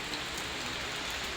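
Steady rain falls outside under a dark, cloud-filled sky after days of downpour, a dense, even hiss of drops hitting surfaces, continuous and fairly close with no voices.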